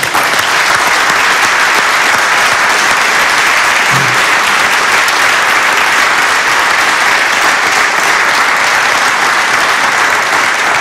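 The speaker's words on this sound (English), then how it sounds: "Let's give them applause" Loud, sustained audience applause at a talk, dense and even clapping from a large crowd that fills the room without a break for about ten seconds.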